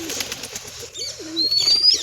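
Pigeons coo softly at close range, a couple of short low warbling calls amid their coop, with a faint high whistle-like tone rising near the end.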